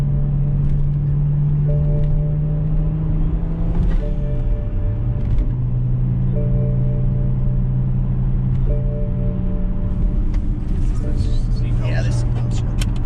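A 600 hp single-turbo BMW 335i engine idles and revs in a deep steady drone with shifting pitch, while people talk throughout.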